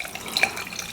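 Hot boiled water poured for coffee, a brief close trickle and splash lasting about a second at moderate volume.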